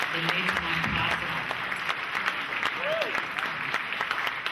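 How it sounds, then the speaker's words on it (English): An audience at an evening scholarship event applauds its sponsors, steady sustained clapping from a crowd in a hall, with a faint voice briefly heard beneath it. "please give them a round of applause"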